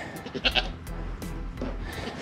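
Goats on a farm bleat several times in quick succession, close and moderately loud, over a low background rumble with no talking.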